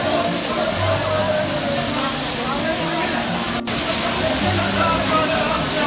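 Riva waterfall in Solan, Himachal Pradesh, pours as a loud, constant broadband rush of falling water, steady throughout with no clear breaks, while a faint low rumble sits underneath.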